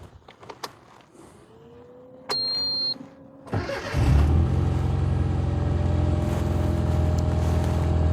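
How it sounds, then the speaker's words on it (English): A 1997 Rover Mini Cooper with a four-speed manual gearbox cranks briefly, catches and settles into a loud, steady close-up idle rumble after a few faint clicks and a short electrical whine. "I'll just give the engine a start."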